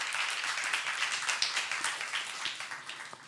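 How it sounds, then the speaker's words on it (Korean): A church youth-service congregation claps together in a fairly quiet, loose patter of applause that carries on briefly at a modest distance. "박수며 하나님께 영광 돌리시기 바랍니다"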